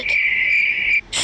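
A cricket gives a steady, loud, high-pitched trill lasting about a second, then falls silent before a new chirp starts right at the end.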